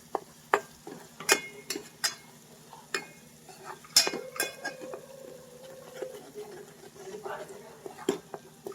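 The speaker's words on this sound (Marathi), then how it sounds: "आणि हे मसाले मस्त व्यवस्थित शिजवून घ्यायचे" Masala spices cooking in a pan for a Koli-style fresh Bombay duck curry, heard as sharp clicks and scrapes of stirring over a soft sizzle, close up, in irregular bursts.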